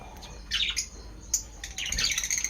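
Pet lovebirds and other caged birds chirping at a bird farm, a few sharp bright tweets and squawks in quick bursts, close and clear with no talk.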